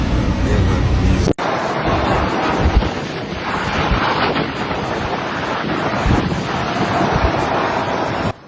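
Hurricane-force winds of over 70 mph in Las Vegas roar as a loud, steady, buffeting rush that batters the microphone, with a brief cut near the start and no voices.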